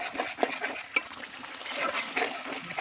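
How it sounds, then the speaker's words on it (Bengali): Spices stirred by hand in a pan on a clay stove while cooking liver masala with chili, coriander powder and salt, with scraping utensil clinks and a faint sizzle, close and steady. "দিয়ে আমি ভালো করে কষিয়ে নেবো"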